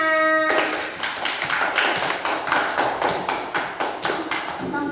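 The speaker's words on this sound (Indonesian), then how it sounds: "Tepuk tangan untuk temannya." A class of students clapping together in a brisk, uneven burst of applause, fairly close and loud, continuing steadily for several seconds.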